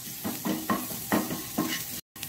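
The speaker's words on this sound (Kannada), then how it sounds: "ಹಾಕ್ಕೊಂಡು ಇದು ಒಳ್ಳೆ ಸ್ವಲ್ಪ ಡ್ರೈ ಫ್ರೈ ಆಗಿದೆ ನೋಡಿ" Onion and spice masala for a spicy egg pepper roast dry-fries in a pan, with a low sizzle broken by four or five scraping stirs at a regular pace, then a brief silent cut near the end.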